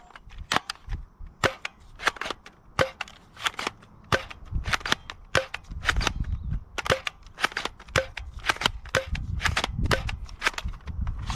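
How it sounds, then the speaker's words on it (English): A Fire Phoenix magazine-fed toy pistol blaster fires a rapid, irregular string of sharp cracking shots, close and loud, over a faint background hiss, with no talking. "Now let's fire some shots downrange."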